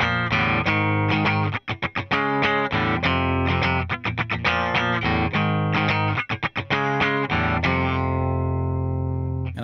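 Heavily distorted electric guitar plays a main riff, loud and continuous, with chunky power chords and short muted chugs between them, ringing out at the end.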